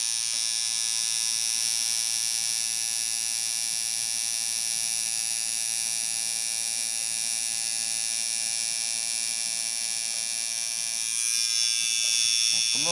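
A tattoo machine drones with a steady, close electric buzz while inking lines during a tattoo lesson, holding one even whine for the whole stretch with a slight shift near the end.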